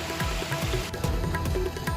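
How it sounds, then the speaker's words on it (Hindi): Heavy torrential rain pours down in the Nayapura area of Kota city, a steady dense wash with scattered drips and splashes, loud and continuous with no talk. "शहर के नयापुरा इलाके में झमाझम बारिश का दौर जारी है।"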